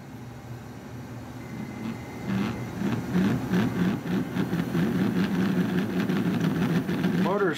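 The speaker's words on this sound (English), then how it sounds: "Motor's quiet, that is just the wheels on the rails." An HO scale Rapido GMD-1 model locomotive with a quiet motor rolls during a pull test, its wheels giving a steady low rumbling hum on the rails that grows a little louder after the first couple of seconds and runs continuously.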